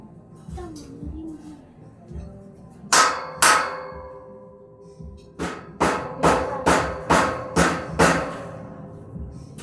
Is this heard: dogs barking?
no